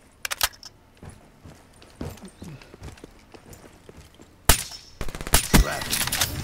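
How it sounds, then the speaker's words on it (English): Sniper rifle fire in Black Ops 3 gameplay, a burst of loud sharp shots arriving late amid scattered footsteps and clatter, with busy game noise throughout. "Okay, so it's a sniper gun."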